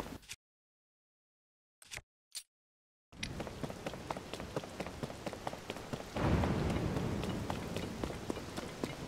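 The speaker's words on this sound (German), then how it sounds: "Ich find's cool, wie es vibriert, wenn ein Blitz einschlägt" Steady heavy rain pours in The Legend of Zelda: Tears of the Kingdom, with a loud, booming burst of lightning and thunder about halfway through that swells the downpour's roar, after a few short sharp sounds and near-silence at the start.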